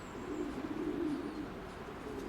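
Wanroy pigeons in a loft coo steadily, a low continuous murmur of overlapping calls close by, with no talking.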